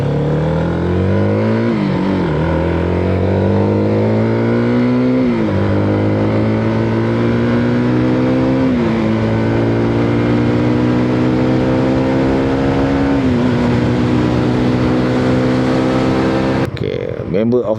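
Modenas motorcycle being ridden on the road, its engine loud and close, rising in pitch through repeated gear changes with the pitch dropping at each shift.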